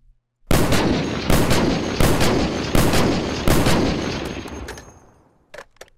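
A modded Unturned game weapon firing explosive rounds lets off five or six heavy, booming blasts in quick succession, each rolling into a dense rumble that fades out at the end, with a couple of faint clicks after.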